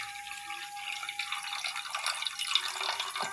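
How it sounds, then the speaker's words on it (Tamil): Dissolved tamarind water pours into a pot while Kanyakumari-style anchovy aviyal is cooked, a brief, close, steady splashing trickle of liquid with no talking. "கரைச்சி வச்சுட்டு அதுக்கப்புறம் இதில் அப்படியே ஊற்றிடுங்க."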